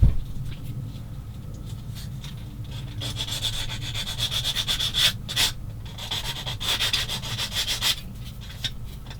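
A coarse hand tool sanding a plastic part from a 1/16 Takom M10 IIC Achilles British tank destroyer model kit, close and quiet, rubbing in short scratchy bursts with brief pauses between strokes.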